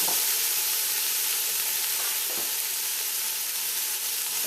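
Butternut squash, potato, carrots and fresh thyme are stirred in a hot pot over low heat, giving a continuous dense sizzle and hiss with soft scraping, no talking.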